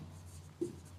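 Soft pen strokes as numbers are written by hand during a class 6 maths lesson, a faint scratch with one brief louder tap, quiet and close.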